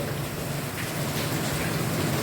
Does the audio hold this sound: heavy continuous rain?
yes